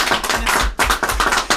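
A studio audience applauding guests on a French regional TV show, loud dense clapping in bursts with a short dip partway through, no speech over it.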